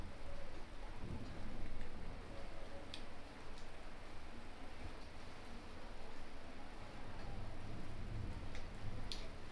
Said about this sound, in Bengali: বাইরে প্রচন্ড পরিমাণে বৃষ্টি হচ্ছে।